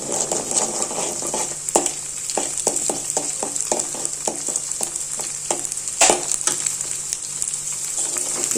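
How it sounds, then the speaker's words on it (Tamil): Beaten egg scrambling in hot oil in a pan for a blood poriyal, with a steady sizzle throughout and a series of regular scraping stirs around the pan, close and fairly loud, with no talking. "ஒரு முட்டை உடச்சி ஊற்றிடுவோம். இது நல்லா ஸ்க்ரம்பிள் பண்ணிக்கணும்."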